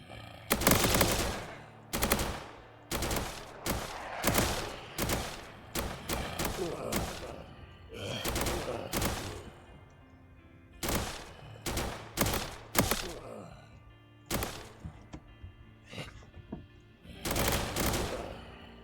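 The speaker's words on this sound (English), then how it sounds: "I didn't mean to shoot that guy." Assault rifle fire in the Roblox game Reign Fall comes in loud, close bursts of rapid automatic shots, separated by short pauses, with occasional heavier thuds.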